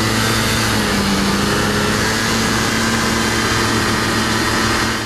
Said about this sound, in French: Lancé au démarreur électrique ou au kick, le 2 temps libère un crépitement caractéristique mais raisonnable.